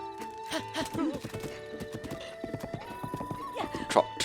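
Horse trotting in the video game The Legend of Zelda: Breath of the Wild, with rhythmic clip-clop hoofbeats, a short neigh early on and another whinny near the end, under soft game music.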